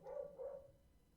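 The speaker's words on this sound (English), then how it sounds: "Oh man, my dog." A dog barks from another room in a quiet home, two muffled, faint barks in quick succession, distant and dull against near silence.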